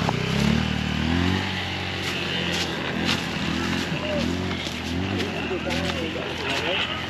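Motorbikes at a motocross fiesta on Guimaras Island in the Philippines roar past nearby, a continuous engine drone with rising and falling pitch sweeps as each passes, under a loud mix of crowd chatter and talk.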